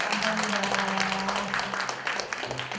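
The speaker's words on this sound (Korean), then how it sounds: "우리 마을 분들과 함께 큰 박수를 한번 보내도록 하겠습니다" Villagers at an outdoor folk-song gathering in Daegok-myeon, Jinju, give a round of applause on a rainy, windy day, the clapping mixed with a low voice and background murmur throughout.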